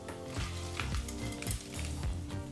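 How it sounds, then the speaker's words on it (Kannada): Hot tempering poured into gongura chutney, Andhra style, giving a brief close sizzle with quick stirring scrapes and light clinks of a utensil against the pot, no voices. "ಈ ಒಗ್ಗರಣೆಯನ್ನು ಗೋಂಗೂರ ಸೊಪ್ಪಿನ ಚಟ್ನಿ ಜೊತೆ ಸೇರಿಸ್ಕೊಳ್ಳೋಣ"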